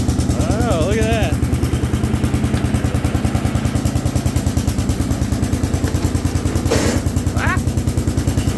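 A small Allis Chalmers garden tractor engine chugs in gear with a steady, rapid pulsing beat close by, while people speak briefly over it.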